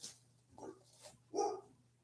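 A dog barks three times at uneven intervals, fairly close, with the last bark the loudest, over a low steady hum.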